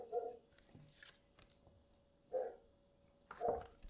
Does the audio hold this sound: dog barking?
yes